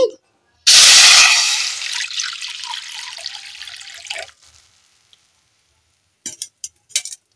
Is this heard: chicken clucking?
no